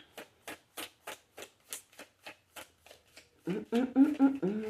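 Tarot cards handled and pulled from a deck: a steady run of crisp, evenly spaced flicks and snaps up close, then a denser rustle of shuffling cards near the end.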